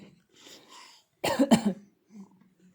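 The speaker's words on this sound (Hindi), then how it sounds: "खांसी लग गई है।" A little girl fakes a playful cough, a pair of sharp, close coughs following soft breathy sounds, with quiet murmurs afterward.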